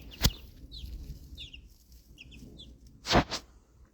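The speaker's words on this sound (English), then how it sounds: "Let's go say hi to the chickens." Backyard chickens clucking close by, a sharp squawk at the start and another burst near the end, with quieter chirpy clucks in between and no talking.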